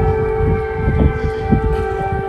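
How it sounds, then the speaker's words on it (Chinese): An air raid siren wails steadily in Kyiv near St. Michael's Golden-Domed Monastery, a loud sustained tone with no pause, while footsteps and low crowd rumble sit underneath. "没想到巨大的空袭警报狂响。"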